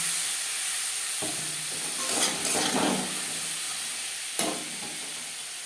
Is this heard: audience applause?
no